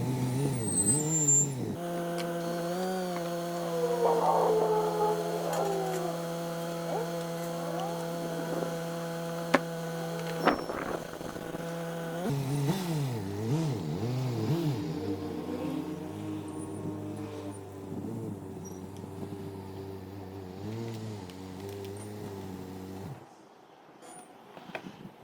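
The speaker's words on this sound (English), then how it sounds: "Something is screaming and howling as I drive down the ramp." A Saab 93 rolling down ramps gives off a loud, sustained screaming and howling with strong tonal whine that wavers and shifts pitch, steady for most of the stretch before cutting off near the end.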